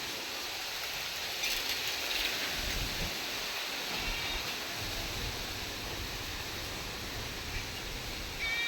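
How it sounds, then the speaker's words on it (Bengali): Rain falling outdoors in a village yard, a steady dense hiss that stays even throughout, with a faint low rumble early on and no voices. "এই যে বৃষ্টি পড়তেছে"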